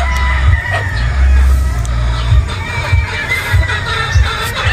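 Boston gamefowl roosters at a game farm in Batangas crowing loudly and repeatedly at close range, with clucks and other birds calling in the background.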